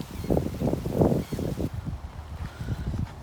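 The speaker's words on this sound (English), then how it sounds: "Very windy." Strong morning wind on Staniel Cay in the Exumas, Bahamas, buffeting the microphone in rough low gusts by the water, loud and uneven throughout.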